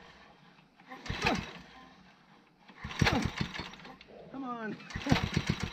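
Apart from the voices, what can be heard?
garden tiller engine running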